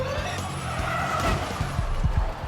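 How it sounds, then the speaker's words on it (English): Dragon Racing's number 6 Formula E race car skids into a hairpin on the tight Hong Kong street circuit, tyres squealing under engine whine, followed by a few sharp thuds as it strikes the wall. "Coming into a hairpin turn, Dragon Racing's car number 6 hit the wall."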